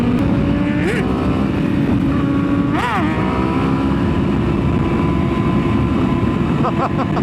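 A 2024 Yamaha R1M motorcycle on a sunset ride roars continuously from its raw exhaust, close and loud, with revs rising and falling in quick shifts near the start and end.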